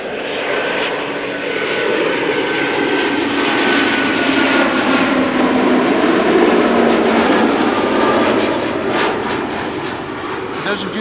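A 17-year-old KLM Cityhopper Embraer 190 long-range jet at Amsterdam Schiphol, its engines a loud, steady roar with a faint tonal whine throughout, sustained for several seconds.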